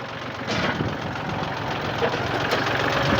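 A Kubota farm tractor engine runs at a steady low idle, a continuous mid-level diesel rumble with light knocking, fairly close and alone without talk.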